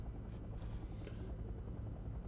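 Helicopter in the wargame Wargame Airland Battle, a steady low rotor rumble and drone, moderately loud and continuous, with no other sounds over it.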